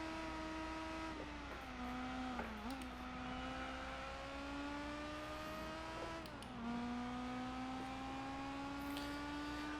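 A Honda S2000 with a racing exhaust in Gran Turismo 4 during an endurance race at Motegi, its engine holding a steady high drone that rises and dips through gear changes, loud and continuous with no talking.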